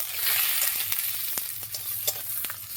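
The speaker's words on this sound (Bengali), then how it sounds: "চিংড়ির ঝাল হচ্ছে" Shrimp sizzle in a pan for a spicy shrimp curry, a constant close hiss with several sharp clicks and scrapes of stirring.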